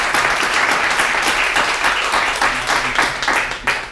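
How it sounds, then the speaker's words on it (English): Audience applause in a stand-up comedy club welcoming a guest speaker to the stage, a dense, steady wash of many hands clapping close and loud, with a few sharper claps standing out toward the end. "Please give a great big round of applause."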